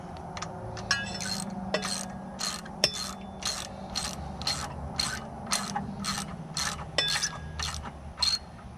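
A hand ratchet works loose a 14 mm bolt under the anode plate on a 2019 Mercury 150 FourStroke outboard lower unit, sending fast evenly spaced clicking bursts with metallic clinks, close and clear.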